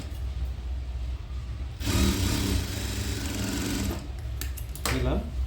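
A sewing machine runs a continuous burst of stitching along the side seam of a frilled baby skirt, close and steady for a few seconds, then stops briefly and starts again, with quiet room noise before it.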